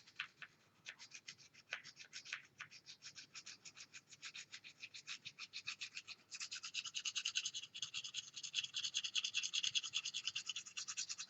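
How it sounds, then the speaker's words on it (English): Garden pruners with some corrosion are sharpened on a sharpening stone. Quiet, rhythmic scraping strokes repeat steadily at close range and grow faster and denser partway through, with no talking. "What this stone does is it pulls off just a small amount of metal as it's sharpening."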